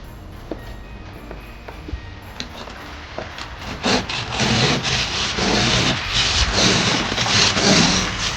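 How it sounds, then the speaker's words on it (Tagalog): Snow being scraped off a car after a heavy overnight snowfall on a winter morning in Toronto, a series of rough, grating scrapes that start sparse and then become dense and continuous, close and fairly loud. "Kailangan kuskusin ang sasakyan para makalabas."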